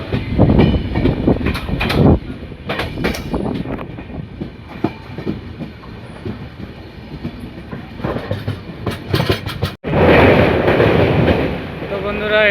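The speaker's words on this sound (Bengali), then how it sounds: "আমাদের ট্রেন নিউ ময়নাগুড়ি থেকে ছেড়ে দিল" Uttarbanga Express train running after leaving New Maynaguri, a steady rumbling wash of wheels and carriage noise with rhythmic clatter, fairly loud and close, swelling stronger near the end.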